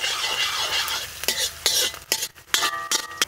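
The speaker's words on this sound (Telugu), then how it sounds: "ఇప్పుడు కడాయి పెట్టుకొని 3 చెంచాలు నూనె వేసుకుందాం. ముందుగా అల్లం వెల్లుల్లి వేసుకొని 1 నిమిషం పాటు వేయించుకుందాం." Ginger and garlic stir-fry in three spoons of hot oil in a kadai for street-style gobi fried rice, giving a steady sizzle broken by quick metal scrapes and clinks of the spatula.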